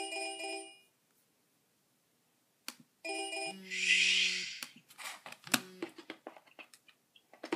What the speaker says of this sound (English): Let's call her back.